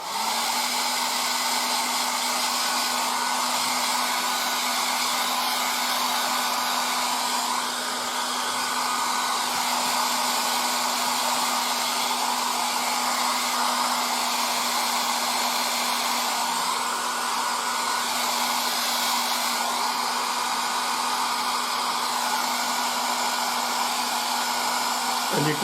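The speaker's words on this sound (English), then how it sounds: "it's time to use my hair dryer" A hair dryer blows steadily and loudly for the whole stretch, drying fresh Vallejo paint on a 1:35 scale Takom Merkava Mk 2b model tank, with a constant airflow hiss and a fixed motor hum underneath.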